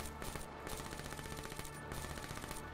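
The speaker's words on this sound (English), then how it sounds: "That awkward moment when you get a death machine" A death machine minigun in a video game fires a continuous rapid stream of shots, a dense rattling burst that carries on without pause.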